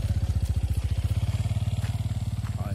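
A motorcycle idles close by with a steady, loud low-pitched thumping pulse that holds evenly, without any voices over it.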